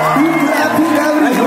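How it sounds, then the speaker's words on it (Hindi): A crowd at a Haryana state celebration cheers loudly for a singer, with whoops, shouts and bellowing voices mixed into a dense, continuous roar close by. "एक बार जोरदार तालियां चाहूंगा भाई"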